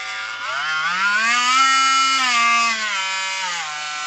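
A Parkside Performance 20V cordless multi-tool runs with an attachment fitted, giving a loud, steady high-pitched motor whine that rises and falls slightly in pitch over about four seconds, with no talking.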